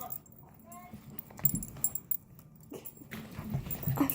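A dog at play gives short whimpers and yelps mixed with scuffling and thumps nearby, irregular and close, with light human sounds in between.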